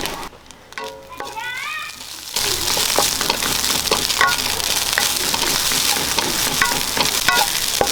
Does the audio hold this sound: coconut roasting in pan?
yes